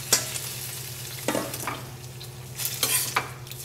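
Sweet and sour Sicilian caponata stirred in a pot as it returns to a boil, a low bubbling hum under a few distinct spoon scrapes and clatters, close, no speech.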